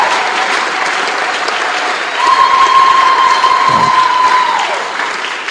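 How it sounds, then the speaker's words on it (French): A crowd at a public gathering in Mbuji-Mayi, Kasaï, breaks into loud, sustained applause for an honoured guest, with a brief whistle-like tone rising over the clapping midway. "Donc, il mérite aussi nos acclamations."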